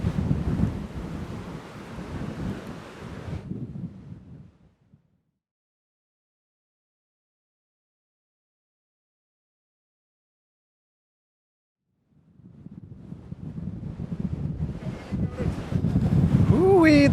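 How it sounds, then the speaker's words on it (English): Strong wind gusts buffet the microphone along the rocky coast at Yehliu near Taipei, a loud rushing roar that cuts out for several seconds of silence in the middle before returning even stronger. "This is so fucking windy."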